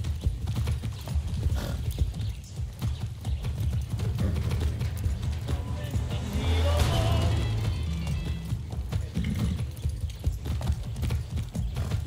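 Horse hooves clip-clop steadily in Far Cry 6, a close, loud rhythmic trot over low rumbling ambience, with a brief whinny near the middle.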